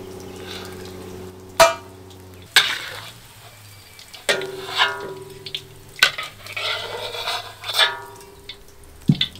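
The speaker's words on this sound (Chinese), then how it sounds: "稍微多煸炒一下，把它的油脂给它炒出来" Pork belly being stir-fried in a wok to render out its fat, with sharp clanks of a spatula against the pan at irregular intervals over a steady low sizzle and hiss, close by and without speech.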